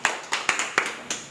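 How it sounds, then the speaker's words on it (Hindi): Hands clap in a slow, even rhythm of about six distinct claps to welcome participants in a class 10 quiz, close and fairly crisp with nothing else heard. "ताली बजाकर इनका स्वागत कीजिए।"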